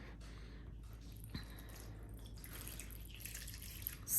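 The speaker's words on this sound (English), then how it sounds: "We have to soak the bread." Bread soaking in water for Guyanese Chester cake, with quiet wet drips and soft squishing at close range, faint and irregular, with no talking.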